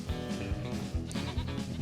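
Goats bleat in Farming Simulator 25, several short, nasal calls repeating close together in a quick run, loud and near, with no talking.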